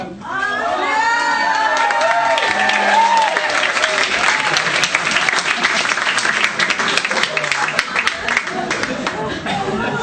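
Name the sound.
audience applause and cheering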